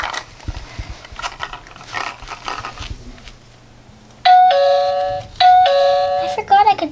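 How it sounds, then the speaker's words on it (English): A toy doorbell rings twice in bright electronic tones, loud and close, after a stretch of quieter rustling and voices; a short fragment follows at the end. "I forgot I could just ring the doorbell and the elevator would just come down on its own"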